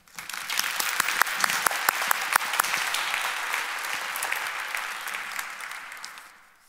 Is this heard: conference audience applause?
yes